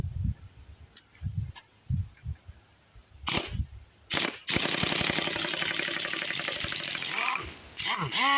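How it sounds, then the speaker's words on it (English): Old Blue Point air impact gun hammering off the flywheel nut on a Johnson Seahorse outboard boat motor: several short loud bursts, then a longer sustained rattling run, close up in a garage. "Barely got it off with that air gun. It's an old Blue Point."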